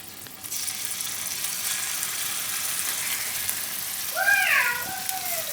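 Paneer roasting and being turned in a pan, a steady close hiss of sizzling with light stirring, while a cat meows twice near the end.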